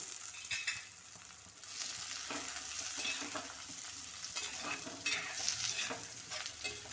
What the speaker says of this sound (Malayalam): ഇതുപോലെ ഇളക്കി അഞ്ച് മിനിറ്റ് നേരം വെച്ചേക്കാം